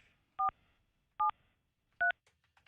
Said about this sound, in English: How do I dial out in the new phone system in the new studio?